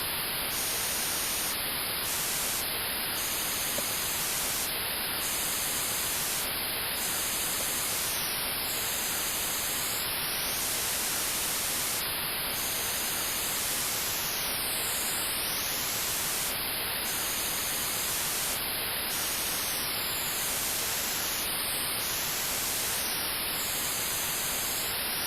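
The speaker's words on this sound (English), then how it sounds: "Now let's see what can be hidden if we slow down this burst tremendously." A radio chirp burst slowed down enormously plays as a dense, steady wash of static hiss lasting the whole stretch at a constant level, with no voices.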